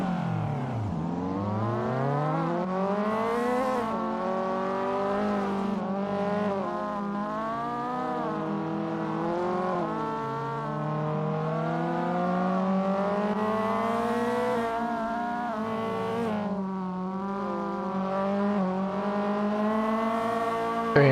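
Race cars in Assetto Corsa, including a white Honda Civic EK9, scream through rising and falling gear changes as they accelerate away at the start of a touge race, loud and continuous engine wails with no talk.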